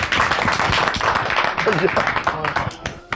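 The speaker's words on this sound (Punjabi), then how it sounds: "ਪਹਿਲੇ ਇੱਕ ਵਾਰੀ ਸਾਰੇ ਤਾੜੀਆਂ ਲਾਓ ਯਾਰ ਜੀ" Audience at a live Punjabi comedy stage show clapping, a dense burst of applause mixed with talk and crowd voices for a few seconds before tapering off.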